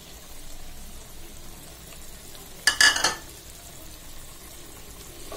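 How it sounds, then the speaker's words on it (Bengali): Onion, garlic and green chilies hit hot oil in a kadai, giving one short, sharp sizzle burst that fades quickly against a quiet kitchen background. "এখন আমি পেঁয়াজ, রসুন, কাঁচামরিচগুলো দিয়ে দিচ্ছি।"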